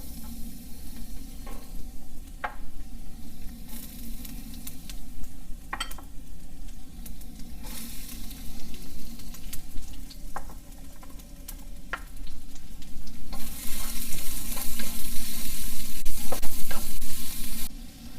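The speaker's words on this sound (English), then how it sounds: "we're going to saute the ginger, the onions, and the garlic for just a minute" Ginger, onions and garlic sauté in oil in a wok for pancit, a steady close sizzle with scattered clinks and scrapes of stirring, growing louder and hissier toward the end.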